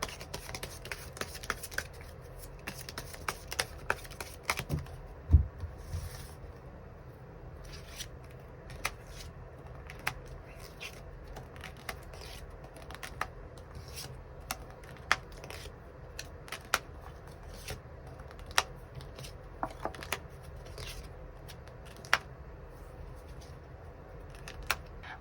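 Tarot cards are shuffled and drawn at close range in a quiet room, giving sparse, soft papery flicks and taps with one sharper snap near the start. No one speaks.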